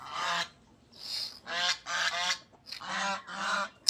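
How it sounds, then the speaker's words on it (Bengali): Loud honking calls from geese or ducks outdoors among running poultry, several harsh honks in quick bursts close by. "চারিদিকে মুরগি, হাঁস দৌড়াদৌড়ি করছে"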